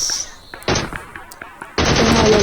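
Automatic gunfire in the mobile game PUBG Mobile, two loud sustained bursts of rapid shots separated by scattered single cracks, close and dominant.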